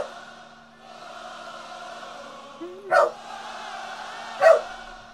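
A dog gives two short, fairly close barks about a second and a half apart, over a low background of music playing.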